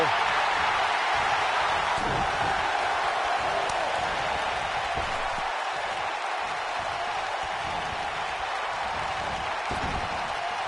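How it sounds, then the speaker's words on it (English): Wrestling arena crowd in WWE 2K19 cheering and applauding, a steady broad roar of noise lasting throughout with faint talk beneath. "I don't remember the last time I heard a more passionate crowd than the one we have here tonight"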